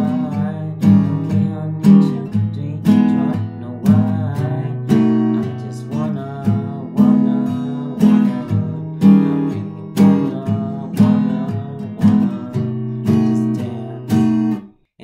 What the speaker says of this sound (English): Just play the chords straight with the strums.